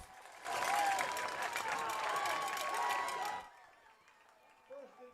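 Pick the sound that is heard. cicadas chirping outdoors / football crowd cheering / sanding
football crowd cheering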